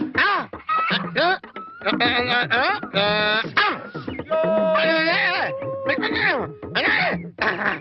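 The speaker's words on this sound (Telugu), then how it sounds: "కోళ్ళు" Chickens cluck and squawk in rapid, overlapping bursts, loud and close, with a long drawn-out call in the middle and no talking.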